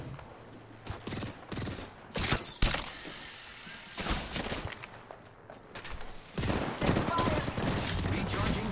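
Rapid gunfire from Apex Legends crackles in loud bursts and sustained volleys, dense and close, with game effects and a voice talking over parts of it.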